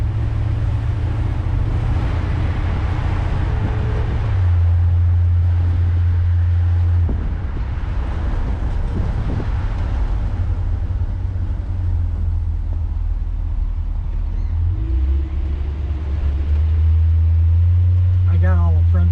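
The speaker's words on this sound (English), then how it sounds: "Out for a ride in the convertible with no front grille or bumper or lights or anything" A 1966 Ford Galaxie 500 convertible, stripped of front grille, bumper and lights, drives with a loud, steady engine drone that drops in pitch around gear shifts, heavy wind rumble throughout, with occasional talk over it.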